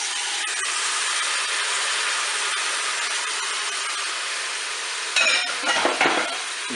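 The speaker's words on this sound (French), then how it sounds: "maintenant je vais ajouter mes légumes, je vais mettre les carottes, les champignons" Carrots and mushrooms tipped into a Cookeo multicooker pot over browning filet mignon, giving a steady broadband sizzle with clatter and stirring scrapes building near the end.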